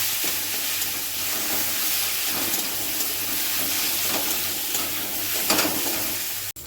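Spice paste with paneer, cashew pieces and raisins sautéing in a pan, a loud, steady hissing sizzle with soft stirring scrapes throughout, ending abruptly.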